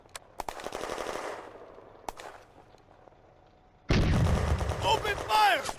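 Gunfire from infantry rifles and machine guns in the WWII strategy game Firefight, with rapid sharp bursts early, a quieter lull, then loud sustained fire and explosions at the end.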